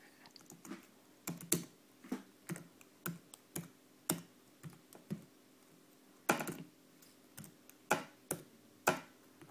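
Typing on a Mac keyboard: soft, close key clicks in an irregular rhythm, single taps and small clusters spread across several seconds in a quiet room.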